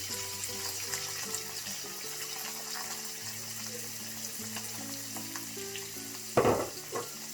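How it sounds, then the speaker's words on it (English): Onion frying in a pan alongside turmeric-seasoned mackerel, a steady broadband sizzle throughout with faint background music, and a sharp clatter or stir near the end. "Add the onion."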